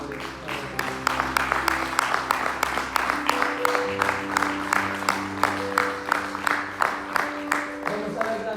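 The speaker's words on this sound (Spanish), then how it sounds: "Denle un fuerte aplauso al Señor" A church congregation claps for the Lord in a steady rhythmic beat, loud and sustained, over sustained music tones.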